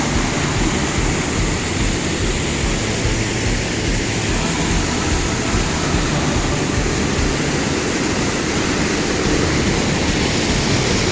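Sam Sai waterfall in Thailand, heard from its base as a loud, constant roar of heavy falling water with broad hiss, unbroken and near, with no voices.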